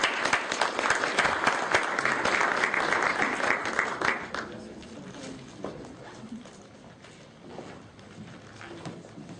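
Applause from a forum audience welcoming architect Javier Sota Nadal, steady and fairly loud for about four seconds, then thinning into scattered claps and room noise.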